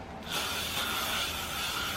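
A steady hiss of hairspray starts after a brief moment and continues evenly, close and fairly soft.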